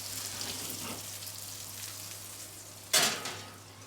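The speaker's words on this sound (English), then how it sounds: "look at that fat rendering, bubbling away" Fat on a tomahawk steak renders and sizzles in a hot pan with a steady, quiet crackle, then a brief louder burst of spattering near the end; nobody speaks.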